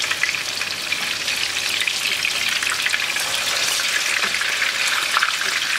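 Chicken frying in hot oil for a burger, hissing in a loud, dense, continuous sizzle close up as the pieces are turned over.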